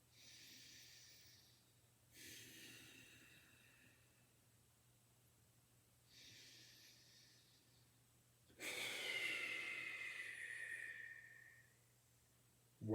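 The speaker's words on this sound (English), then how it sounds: "Big breaths here" During a hip mobility exercise, a person takes slow, deep breaths close to the mic: four long airy inhales and exhales alternating with quiet pauses, the last one louder and fuller.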